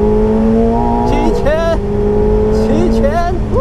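A McLaren 750S supercar's engine revs at full throttle on the Estoril race track, a loud droning note with rising pitch sweeps as it accelerates and shifts, while someone talks over it.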